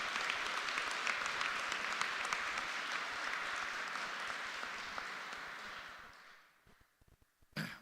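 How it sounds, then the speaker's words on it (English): Audience applause at a school campus ribbon cutting ceremony, a dense, steady burst of many hands clapping that holds evenly, then thins and fades out near the end, leaving a few scattered claps. "Please give them a big round of applause."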